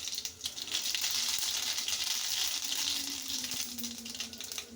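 Mustard seeds crackle and sizzle in a pan of hot oil for beetroot palya, a steady close frying hiss with small popping spatters and faint stirring.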